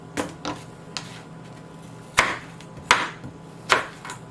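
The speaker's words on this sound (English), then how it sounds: "So you're still going to go through and slice it again." A knife slices through apple pieces for an apple, carrot and kale salad, giving about six sharp, separate chops on a cutting board at uneven intervals, close and clear.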